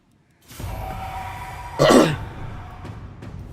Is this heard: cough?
yes